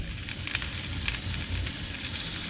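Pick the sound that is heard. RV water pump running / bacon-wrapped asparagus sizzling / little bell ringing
bacon-wrapped asparagus sizzling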